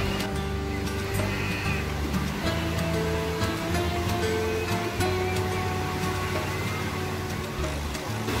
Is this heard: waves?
yes